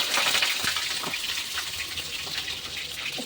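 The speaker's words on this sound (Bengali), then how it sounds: "এই যে কেটে রেখেছি গোটা পটলগুলো আমি ভাজার জন্য দিয়ে দেবো।" Whole pointed gourds (potol) frying in hot mustard oil tempered with five-spice, giving a steady, dense sizzle that hisses evenly throughout with no talking.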